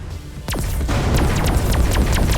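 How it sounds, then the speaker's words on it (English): Torpedo volley in the space combat game Everspace 2: a sharp launch burst followed by a rapid series of booming impacts and crackling detonations, loud and continuous over a rumbling low drone. "Fire all reserve torpedoes at once."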